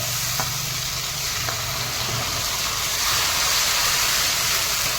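Onion paste sizzles loudly in hot oil in a pan after garlic has been fried, for a mustard-poppy bhetki fish curry, a steady close frying hiss that swells toward the end, with no talking.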